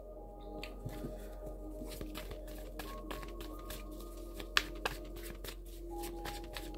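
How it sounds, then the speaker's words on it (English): A deck of playing cards being pre-shuffled, giving soft riffling and flicking bursts with a few sharper snaps, close by over a steady low hum. "I've been doing a pre-shuffle"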